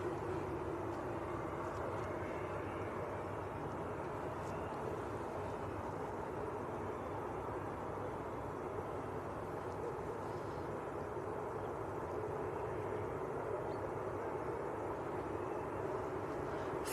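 An airliner lands at Manchester Airport, heard from a distance as a steady, broad jet roar that holds evenly for about seventeen seconds with no talking.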